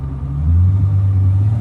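Car making a full-throttle pull with bottle pressure set at about 925 on a Mercedes E55, CLK55 AMG or SLK build, a loud deep engine rumble rising briefly in pitch, close and alone.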